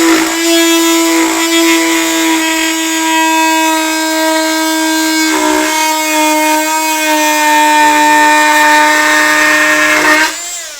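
A corded oscillating multi-tool runs alone, producing a loud, steady buzzing whine with strong tonal overtones that dips slightly a few times before winding down at the end.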